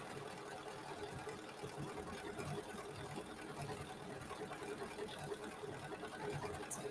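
Embroidery sewing machine stitching out a motif, a steady, fast mechanical whir that runs evenly and continuously at moderate loudness, with no voices.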